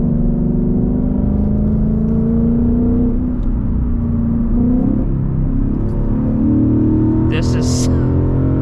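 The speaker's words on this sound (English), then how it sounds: "And if I'm braking, it's gonna downshift for me." Ford Mustang GT with a 10-speed automatic downshifting under braking, a steady low engine rumble with shifting pitch heard from inside the car, while a person talks throughout.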